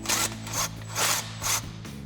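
A 3/8-inch air impact gun with a 13 mm socket snugs an axle-back exhaust clamp on a 2011-2014 Mustang GT, firing in four short close rattling bursts with brief pauses between them.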